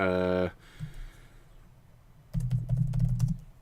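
Keys clatter on a computer keyboard in a quick run of clicks near the end after a quiet stretch, close and moderately loud, with a voice heard at the start.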